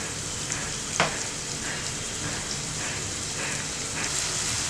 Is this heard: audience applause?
no